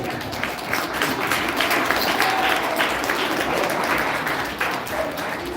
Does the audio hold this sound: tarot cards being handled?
no